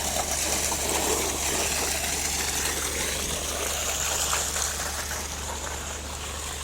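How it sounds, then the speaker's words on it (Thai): Strong water gushing steadily from a pipe or outlet at a rural Thai site, a continuous broadband rush holding at even loudness throughout with a faint low hum beneath. "น้ำไหลดีมากเลย"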